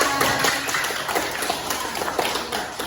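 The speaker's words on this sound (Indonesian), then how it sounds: "Tepuk tangan." A group claps hands together, a dense burst of quick overlapping claps that keeps going at an even, moderately loud level.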